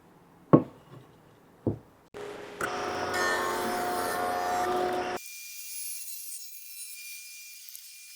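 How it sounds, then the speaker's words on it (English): Workbench rail edges fed over a woodworking jointer to square them up: a couple of sharp knocks, then a loud, steady machine cutting roar for about three seconds that gives way to a quieter high whine as it spins down. "I need to take this back over the joiner and square up the edges."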